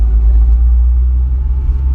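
A Tofaş car drives along a road with its engine giving a steady, close, heavy low rumble that swells slightly in places, with no one talking.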